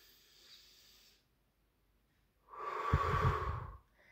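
Slow, deep breath drawn in, a soft airy rush that swells for about a second near the mic after a quieter breath out, with no talking.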